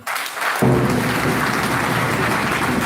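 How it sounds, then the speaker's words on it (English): Audience at a police command seminar breaks into sustained applause for a lawyer, a dense, steady wash of many hands clapping that starts abruptly after a brief quiet moment and continues evenly throughout. "I wanted to put your hands together again for the lawyer"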